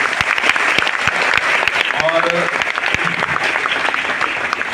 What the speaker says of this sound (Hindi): तो सबसे पहले आप लोग के लिए एक बार जोरदार ताली होना चाहिए